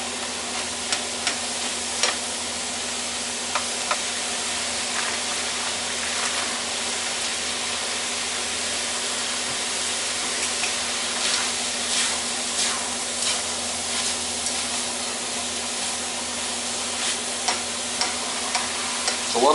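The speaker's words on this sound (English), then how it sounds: "Just kind of put it in the pan so I could break it up good here." Ground meat for a big batch of chili fries in a pan, giving a steady, busy sizzle with scattered crackles and scraping as it is broken up. The sound runs continuously and is heard alone.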